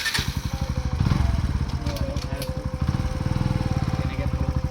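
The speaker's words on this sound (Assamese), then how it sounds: "এতিয়া বাইকখন সোমোৱাই দিওঁ" A modified NS motorcycle's engine runs close by with a steady, rapid pulsing thump as the bike is ridden into a garage, lasting throughout with faint voices in the background.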